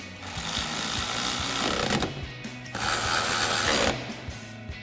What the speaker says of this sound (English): grab our T40 Torx bit on our ratchet and tighten these down